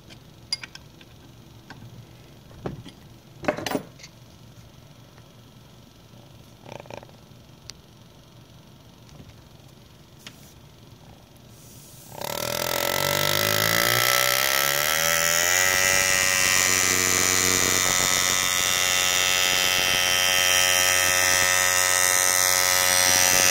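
Lindsay AirGraver pneumatic engraver on a metal plate: a few sparse ticks and taps, then a sudden steady high-pitched buzzing whir at full throttle that holds loud and constant to the end.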